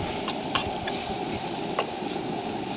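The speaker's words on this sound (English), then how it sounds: "Let's kind of stir it around a little bit." Venison steak sizzling loudly and steadily in a skillet while being stirred, with a few sharp spatula clicks over the constant fry, no talk.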